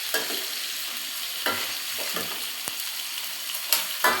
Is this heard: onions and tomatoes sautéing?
yes